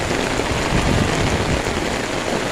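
Steady rain falling outdoors, a dense, even hiss with no gaps that stays at the same loudness throughout.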